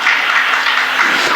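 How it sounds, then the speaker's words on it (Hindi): A crowd claps through a religious sermon by a Jain monk, an even, sustained patter of many hands that swells slightly near the end, with no speech on top. "तालियां बज रही थी।"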